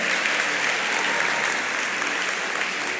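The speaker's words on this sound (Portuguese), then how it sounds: "Você pode dar um aplauso ao Senhor?" A church congregation applauds steadily and loudly throughout, a dense continuous wash of many hands clapping with no pauses.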